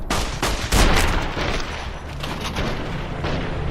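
Dense burst of gunfire from enemies in Fallout: New Vegas, a heavy booming volley peaking early, then continuing as a loud rumbling barrage with no talk.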